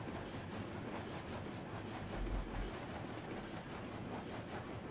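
Eureka locomotive rolling in RailRoads Online, heard faintly as a low rumble with soft rhythmic clickety-clack of wheels on track, steady throughout with a slight swell near the middle.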